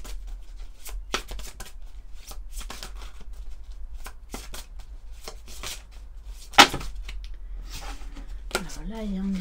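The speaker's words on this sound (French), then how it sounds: "On va prendre, je pense, à la coupe quelques cartes de l'oracle des anges de Dorine Virtue." Angel oracle cards are cut and shuffled close by, giving a run of soft flicking and slapping riffles. Someone speaks at the end, and there is a sharp click partway through.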